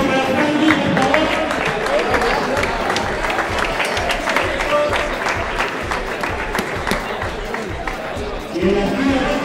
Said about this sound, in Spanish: Fuerte aplauso para Franklin, por favor.